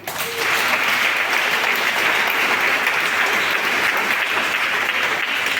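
A church congregation applauds Jesus with loud, steady clapping that fills the room without a break for about five seconds, with no voices rising above it.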